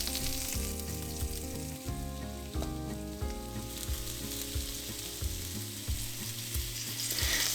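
Eggplant fries in olive oil in a hot pan with a constant sizzle, heard under steady background music with a strong tonal beat.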